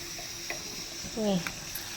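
Quiet sizzling of frying in hot oil, with a few light clinks and a brief faint voice.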